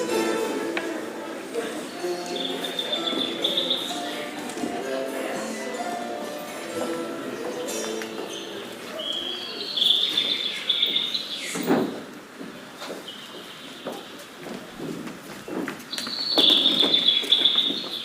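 Forest ambience with bright bird chirps and tweets rising here and there over a faint steady hum of insects, with quiet voices in the background.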